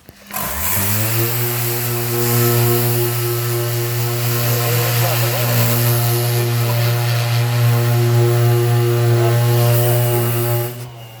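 A petrol chainsaw roars up and runs steadily at high revs while cutting something in two, a loud, continuous buzzing drone that holds for about ten seconds before stopping abruptly.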